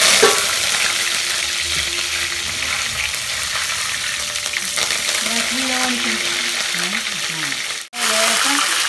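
Dried red chillies and curry leaves fry in hot oil for an instant lemon pickle, a loud, steady close-up sizzle that runs the whole time and cuts out for a moment near the end. A voice talks over it.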